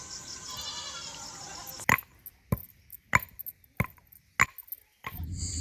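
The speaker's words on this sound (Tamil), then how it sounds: "இன்னுமே நல்லா நச்சு எடுத்துக்கிறேன்" Nannari root is struck and crushed in several sharp, evenly spaced thuds, close and loud, after a stretch of steady background noise.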